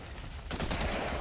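Rifle gunfire in ARK: Survival of the Fittest, a faint distant rattle that jumps into a denser, louder burst of rapid shots halfway through.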